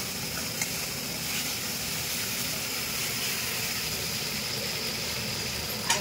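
Tomato sauce frying in oil while cooking a Bengali egg posto dish, a steady close hiss and sizzle running without a break, with no talk.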